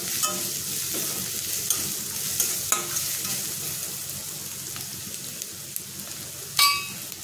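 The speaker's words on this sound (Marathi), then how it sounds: "धणेपूड आणि जिरेपूड हे टाकून आपल्याला मसाले परतून घ्यायचे आहेत" Ground coriander and cumin with turmeric frying in a pan for an aloo matar filling: a continuous close sizzle with occasional spoon clinks and scrapes against the pan, ending with a louder clatter, no talking.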